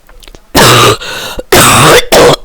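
Loud, close harsh coughs and throat clearing, in three rough bursts separated by brief pauses, heard alone without talk.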